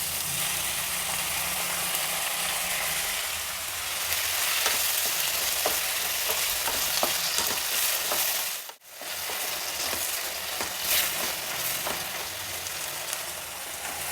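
Onion and tomato sizzle steadily in a hot pan for a vegetable kootu, with a spatula stirring through them in repeated scraping strokes. The frying stays loud and continuous close by, broken only by a brief dip near the end.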